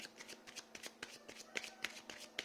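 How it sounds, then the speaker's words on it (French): Tarot cards being shuffled by hand, a rapid, quiet run of riffling clicks and flicks with a few sharper snaps, close and soft. "je fais tomber les cartes"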